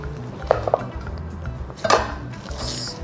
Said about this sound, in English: And then green onions, we'll just cut the ends.